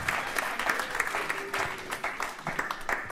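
Crowd applause at a worship gathering, a moderate, continuous patter of many clapping hands with some cheering mixed in, heard at middle distance without speech over it.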